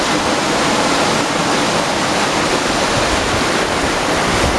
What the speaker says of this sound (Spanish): Aquí cae el agua y ahí un lavadero, un antiguo lavadero.